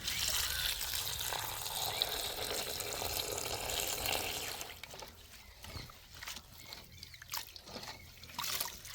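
Water splashes and trickles steadily in a basin as chopped coriander leaves are washed. The sound is close and continuous for several seconds, then breaks into softer, scattered splashes and drips.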